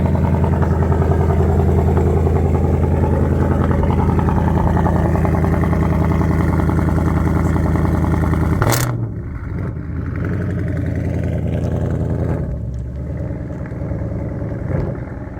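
A Ford Mustang's engine at a car show rumbles loudly up close, holding a steady throaty drone before dropping to a lumpier idle and swelling again with a short rev.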